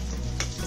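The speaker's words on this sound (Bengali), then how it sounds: "একটু লাল লাল করে ভেজে নেব।" Pieces of food frying in a pan until reddish, a steady close sizzle throughout with a brief stir near the middle.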